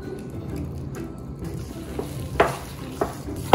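Hands kneading raw minced meat kebab mixture with spices and lemon juice, giving soft, low, wet squelching and pressing sounds with a few sharper squishes near the end, close and fairly quiet with no talking.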